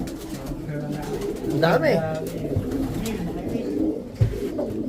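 Racing pigeons in a breeders' loft coo and rustle nearby, with soft repeated calls and a brief flutter, while someone talks over them.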